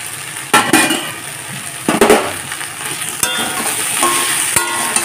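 Mixed vegetables for a vegetarian chorchori fry in a pan with a steady close sizzle, broken by sharp knocks and scrapes of a utensil stirring them every second or so; no one speaks.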